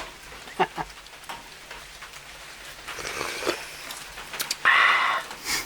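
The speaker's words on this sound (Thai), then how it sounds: "ข้างในอ่ะอยู่คนฝนตกอ่ะฝนตกเข้ามา" Rain falls steadily in a rubber plantation outdoors, a soft broadband hiss with scattered drops and brief louder splashes, while people move and talk faintly nearby.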